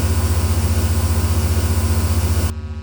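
An aircraft engine in an SWL-120 flight simulator drones loudly with a steady pulsing throb, then abruptly drops to a quieter hum near the end.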